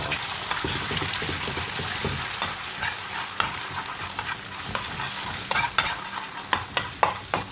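Leftover rice frying with two eggs in a pan, a loud continuous sizzle with brisk scraping stirs and sharp utensil clicks toward the end, no voices.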